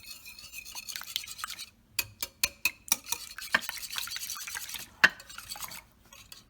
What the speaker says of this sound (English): And we will mix the eggs first.